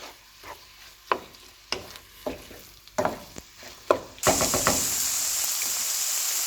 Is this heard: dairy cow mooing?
no